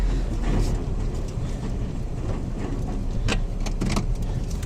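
A car backing up on a rural road near a field gate, with a steady low engine rumble and tyre noise, close and continuous, marked by a few sharp clicks and knocks.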